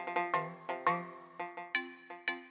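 A mobile phone rings indoors with a bright electronic ringtone, a rapid series of plucked, chiming notes repeating in quick bursts, clear and alone.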